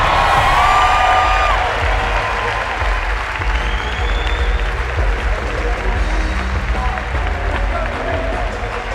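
A big arena crowd at the 2017 CrossFit Games roars with sustained applause and cheering, a loud continuous wash of clapping and shouts that holds steady throughout.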